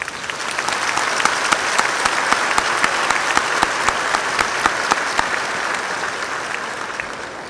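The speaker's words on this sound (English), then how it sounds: "Please give them a round of applause." An audience in an arena at a high school graduation ceremony bursts into loud, dense applause, many hands clapping steadily with sharp individual claps standing out, gradually tapering off.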